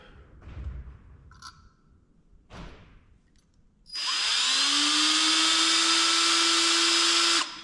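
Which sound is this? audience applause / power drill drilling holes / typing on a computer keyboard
power drill drilling holes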